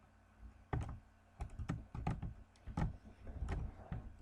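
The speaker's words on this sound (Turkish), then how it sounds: "Arkadaşlar bu arada klavye sesi nasıl?" Computer keyboard typing in a gaming setup, a few loud clustered bursts of keystrokes with short pauses between them, close and alone without talk.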